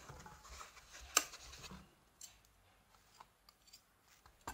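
Scissors snip through macrame thread, cutting it in half, with one sharp loud cut followed by a few quieter clicks and small handling noises in a quiet room.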